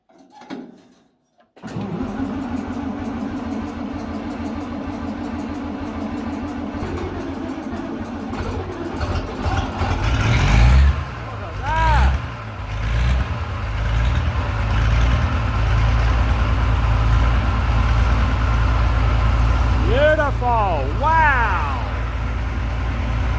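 A farm vehicle's engine cranks and catches, then settles into a steady, loud idle close by, with a few revs swelling partway through and a voice speaking briefly over the running engine near the end.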